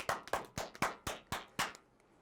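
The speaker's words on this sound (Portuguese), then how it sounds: "Uma salva de palmas para os professores." A few people clapping for teachers in a classroom, a short burst of about seven sharp claps in loose rhythm that fades out, close and fairly quiet.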